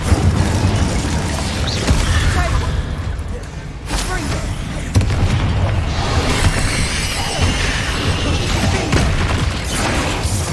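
Incendio fire spells are cast repeatedly in Hogwarts Legacy, fiery bursts and whooshing booms with mechanical clatter over loud game effects and music.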